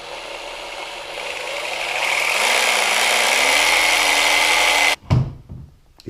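A Makita DJV180Z cordless jigsaw runs freely as the trigger shifts its speed, a buzzing whine that rises and holds steady, then cuts off with a clunk and rattle of handling.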